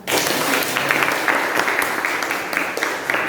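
Students in an Indonesian classroom applaud together during a lesson on environmental change, a thick burst of clapping that stays loud and steady for a few seconds.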